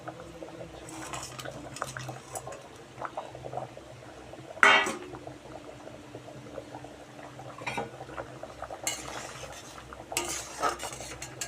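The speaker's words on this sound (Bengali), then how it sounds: "ঝোলটা ফুটে গেছে, এবার আমি পনিরগুলো দিয়ে দেবো।" Paneer cubes dropped into a boiling curry and stirred, with a low bubbling simmer under repeated utensil scrapes and clinks and a loud splash-like burst partway through.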